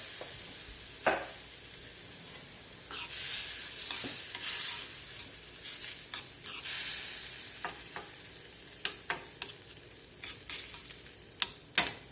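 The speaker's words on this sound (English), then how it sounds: "Just gonna let this sit there and simmer for a few minutes." Nacho filling with beef broth simmers in a pan, a steady close sizzle and bubbling broken by occasional sharp clicks and scrapes of a utensil against the pan, no talking.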